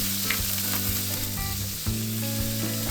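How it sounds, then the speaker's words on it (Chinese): Pork belly slices frying and being stirred in a hot wok over medium heat, rendering fat: a steady, loud sizzle with spatula scrapes and clinks throughout, no talking. "把肉铺平，转中火煸出油脂再翻炒。"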